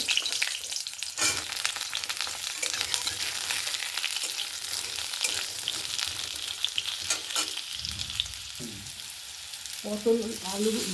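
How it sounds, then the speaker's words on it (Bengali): Pieces of pointed gourd frying in hot oil for a lentil-fritter curry, a steady close crackling sizzle throughout with occasional stirring scrapes and a brief voice near the end. "পটলগুলো ভেজে নেব।"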